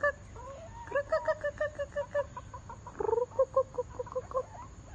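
Chickens cluck in a steady run of short, evenly spaced notes, moderately close, with a brief louder squawk partway through over a faint background hum.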